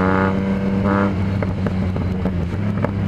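Yamaha MT-09 motorcycle with an aftermarket exhaust, engine idling with a steady low rumble and a couple of rising blips, then sharp popping crackles from the exhaust, close and loud.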